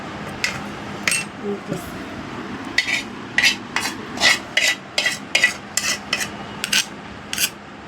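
A metal ladle stirs and scrapes through an ivy gourd curry with green chilies in a cooking pot. The strokes come as a dozen or so sharp, rhythmic rasps close up, with no talking over them.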